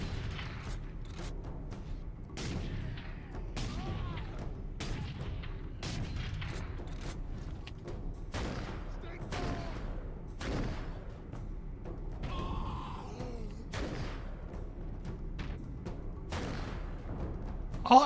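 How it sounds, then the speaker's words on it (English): Mortar weapon fire in Warhammer 40,000: Space Marine, heavy booming thumps repeating roughly every couple of seconds across the stretch, loud and punchy over a rumbling game soundscape with scattered battle noise. "I like this as a mortar weapon"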